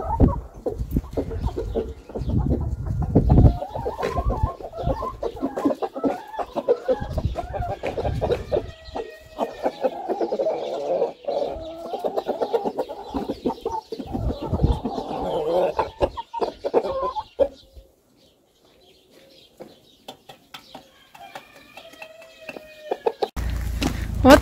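Chickens cluck and murmur nearby in a busy, irregular stream, falling quiet for a few seconds before more clucks and a sudden noise at the end.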